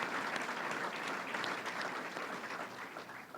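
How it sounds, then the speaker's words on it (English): A crowd at the Great New York State Fair applauds a governor's speech, steady dense clapping heard at a distance and fairly faint, continuing evenly for a few seconds. "that's a good point for applause right there"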